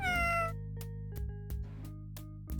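A cat meows in a clear, drawn-out tone at the start of the game Hugo 2: Whodunit!, followed by a few soft clicks over a steady low electronic hum.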